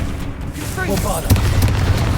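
A Bombarda explosion spell goes off in Hogwarts Legacy, a deep, rumbling boom. A short voice comes first, then the blast lands hard and its low rumble carries on.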